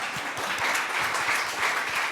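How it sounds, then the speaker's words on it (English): An audience at a startup demo day applauds steadily as a company CEO is introduced on stage, a dense, even wash of clapping that holds throughout. "Big applause."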